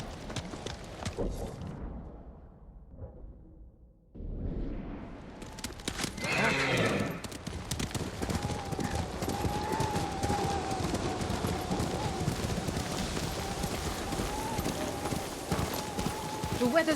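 A horse from the Ghost of Tsushima video game whinnies loudly, then gallops with rapid, steady hoofbeats over snowy ground as wind blows, with speech heard along the way.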